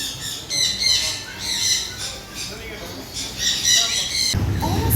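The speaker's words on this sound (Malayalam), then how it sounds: "പക്ഷികളൊക്കെ തലയിലൊക്കെ വന്നിരിക്കുന്നുണ്ടോ അവിടെ, കണ്ടോ?" Birds squawk loudly at a feeding at a marine world attraction, in repeated harsh bursts that rise and fall over a crowd murmur and background voices, ending in a louder rumbling noise.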